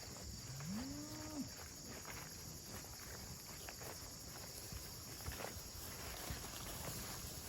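A single cow from a herd of 113 cattle lets out a rising moo early on in an old perennial pasture, followed by quiet field ambience with crickets and a few soft footsteps.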